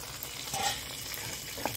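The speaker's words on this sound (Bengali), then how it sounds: "এদিকে মাছটা ভাজা হতে থাক" Continuous sizzling of fish frying in hot oil, a steady hiss with a faint clink, no voices.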